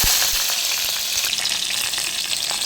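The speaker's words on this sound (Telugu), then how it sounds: "పచ్చిమిర్చి కూడా వేగిపోయాయి" Green chillies and garlic fry in hot oil, making a loud, continuous crackling sizzle close up with brief pops and no talking.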